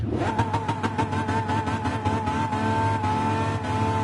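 A race car engine in GT Sport revs high toward a 9,000 rpm limit and holds a loud, steady buzzing drone close up, with rapid rhythmic pulses throughout.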